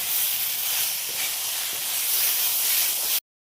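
Fish curry with cauliflower, kohlrabi and potato bubbling in a pan, a steady loud hiss and sizzle running continuously before cutting off abruptly near the end.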